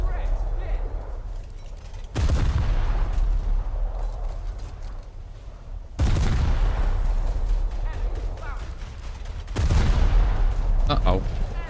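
Heavy naval ship guns in a Naval RB video game boom three times at intervals of several seconds, each loud blast followed by a long rumbling decay, with mechanical clatter between shots.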